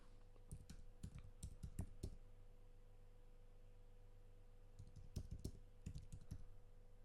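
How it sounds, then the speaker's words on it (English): Two short bursts of quick, light clicking on a computer keyboard, close and fairly quiet over a low steady hum, with a pause of a few seconds between them. No talking. "Let's see if we can type it in."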